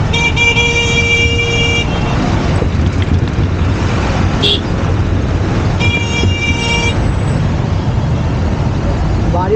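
Dense road traffic stuck in a rain-caused jam, heard from a rider on a TVARA 2022 electric cycle: a constant loud rumble of engines and rain wash, with repeated car and bus horn toots sounding near and far throughout.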